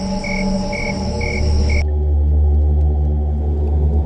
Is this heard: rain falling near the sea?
no